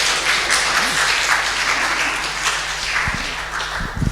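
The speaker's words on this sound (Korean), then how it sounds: "박수." A church congregation applauds to greet a visiting missionary, a steady, moderately loud roll of many hands clapping that persists throughout, with a few heavier low thumps near the end.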